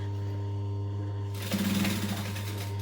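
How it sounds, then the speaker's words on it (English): A sewing machine starts up and stitches fabric for a bag, a close, steady mechanical whir and rapid needle chatter over a constant low motor hum. "I'm just using my foot width as deciding how far to stitch from the edge of the fabric"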